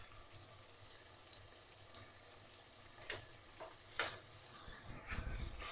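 Beef tripe frying in a pot gives a quiet, steady sizzle, broken by a few soft scrapes and stirring clatters near the end, close and faint.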